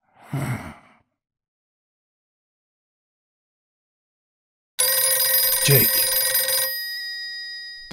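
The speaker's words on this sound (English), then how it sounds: "The phone rang twice." A telephone bell rings in one long, bright burst late on, after a short breathy sigh and a stretch of silence, then fades as the ring decays.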